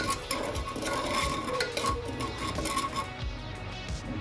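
Turmeric and salt stirred into oil in a pan for a drumstick vegetable dish, a continuous close scraping of spoon against metal with faint clinks, no voices.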